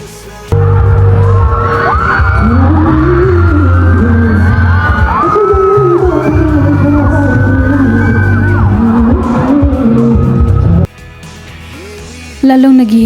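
A crowd of girls shrieks and cheers loudly over live singing and music in Davao, a continuous roar that holds for about ten seconds before suddenly dropping away.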